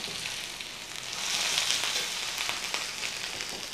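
Steady, loud hissing sizzle of Parmesan and sage crusted pork chops frying in a pan, a continuous crackling wash with no talking.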